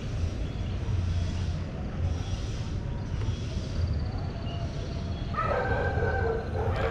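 Dogs bark and yip faintly in the distance, scattered through a steady, noisy background hum from a small drone being tested.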